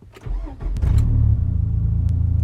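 A 2002-2006 Nissan Altima 2.5 engine cranks briefly and fires up, settling into a loud, steady close idle.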